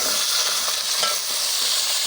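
Potatoes fry with green chili, cumin and garlic in a loud, dense hiss of sizzling oil, steady for a couple of seconds with faint stirring.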